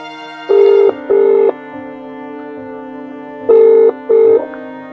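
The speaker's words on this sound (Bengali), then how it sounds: "দাঁড়াও রিং হচ্ছে" Phone call ringback tone, two paired bursts of ringing separated by a pause, clear and close over a steady underlying tone, with no talking.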